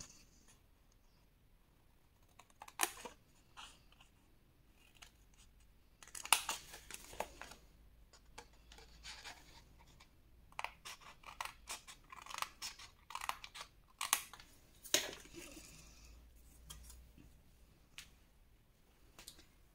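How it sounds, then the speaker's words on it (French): Scissors snipping through paper while cutting along traced lines for a scrapbooking advent calendar, with quiet crisp snips that come in irregular clusters and occasional rustling of the sheet, close by and alone. "Vous retournez et vous allez couper sur chaque ligne ici que vous avez tracé."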